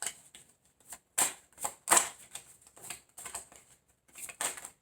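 Tarot cards shuffled by hand in a quiet room, a run of soft, crisp riffling bursts in an irregular rhythm, close and moderately loud, with no one talking.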